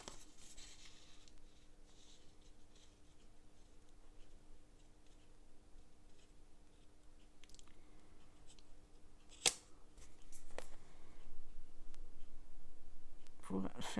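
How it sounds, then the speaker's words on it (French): Paper fed through a hand-cranked embossing machine for a bookmark, giving a low steady mechanical hum with scattered dry clicks and ticks that grow sharper near the end. "on va le passer à la machine à gaufrer"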